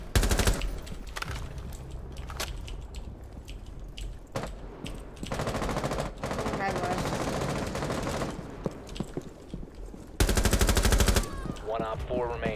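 Rainbow Six Siege gunfire comes in rapid automatic bursts, loud and close, broken by short gaps and followed by a final heavy burst near the end, with game sounds between volleys.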